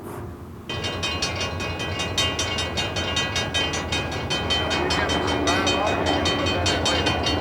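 Trains pass by on rails with a loud, steady rumble and a regular clickety-clack of wheels over track joints, continuing close by throughout while a voice talks over it.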